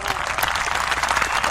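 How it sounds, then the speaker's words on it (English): Crowd at an NCAA college basketball game applauds Duke, a dense, steady wash of clapping and crowd noise, loud and sustained throughout with no clear voices. "Duke always gets a round of applause here."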